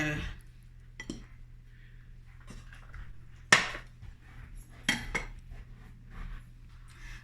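Knife cutting potatoes on a board: a few sparse, quiet knocks and clinks spread out over several seconds, with two sharper taps standing out against a low, steady background hum.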